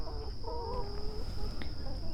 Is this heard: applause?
no